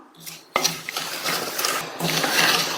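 A utensil stirs and scrapes semolina (rava) as it dry-roasts in a pan over medium heat for laddu, a continuous close-up rustle with a few sharper knocks against the pan.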